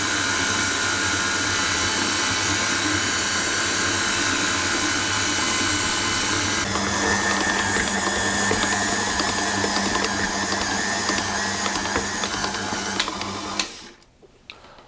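A stand mixer kneading bread dough for a plaited loaf gives a loud, steady mechanical whir. The tone shifts partway through, and the motor stops near the end.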